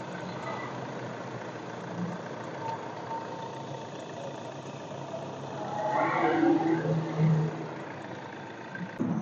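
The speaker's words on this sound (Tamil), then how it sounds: "வண்டியோட இன்ஜின் சவுண்டை பார்த்தீங்கன்னா லைவாக கேளுங்க" A Hyundai i20 diesel engine idles with a steady low rumble, rising slightly in the middle before settling back to an even hum.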